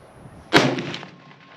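A single sharp rifle shot fired at a target during practice before a wild hog hunt outdoors, loud and close, with a short echoing decay.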